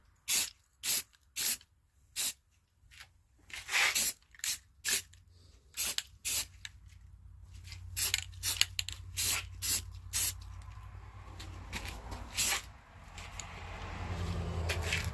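Short hissing bursts from a spray paint can coating an RCA R7A radio chassis, about a dozen sharp puffs in an uneven rhythm, close and fairly loud, followed by faint rustling handling noise.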